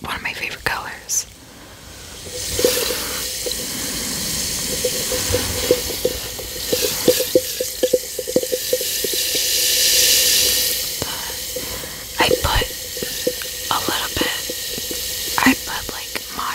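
A bath bomb fizzes in moderately cold water with a soft, continuous hiss and crackle, close to the microphone, while a voice whispers over it with scattered clicks and taps.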